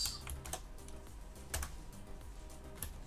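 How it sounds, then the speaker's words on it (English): Typing on a computer keyboard, a quick run of light clicking keystrokes in short bursts, close and fairly quiet, with no talking. "typing in an S."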